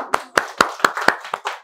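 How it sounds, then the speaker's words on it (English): A small group claps in a loose round of applause after a session talk, about six or seven distinct hand claps in an uneven rhythm, close and fairly loud with no voices over them. "I think you should have a round of applause for yourself."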